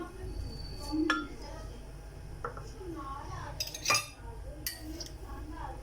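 A drinking glass set down and clinking against kitchenware while a mint margarita is prepared, a few sharp close chinks and clatters scattered over a woman's speech in Hindi.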